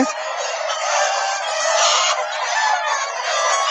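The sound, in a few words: Sonali hybrid chickens clucking and crowing on poultry farm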